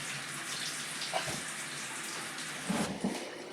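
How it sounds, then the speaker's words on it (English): Hot shower water sprays onto a screen holding freshly harvested parsley and basil, a close steady rushing hiss with a few louder splashes and clatters near the end. "I'm going to spray the hot water on it"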